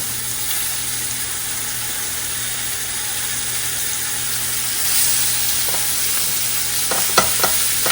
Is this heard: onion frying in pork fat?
yes